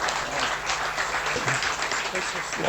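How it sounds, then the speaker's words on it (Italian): Audience applause at an award ceremony in Venice, a broad continuous clapping as the crowd stands, with a presenter's voice speaking over it. "Un grande applauso."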